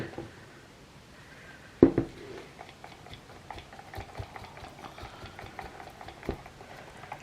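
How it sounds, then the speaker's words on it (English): A whisk stirs a soap-making mixture, giving soft, irregular wet patters and light clicks, close and fairly quiet, with one sharper knock early on. "I'm just going to give them a whisk."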